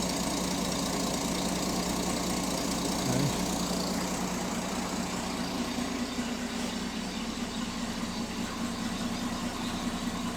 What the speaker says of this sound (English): I think she's sounding pretty good there. First time fired up with the new timing chain.